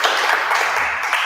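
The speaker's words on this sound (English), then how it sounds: "Round of applause for that" Short burst of audience applause at a startup interview event, a dense wash of clapping that fades within a second or so.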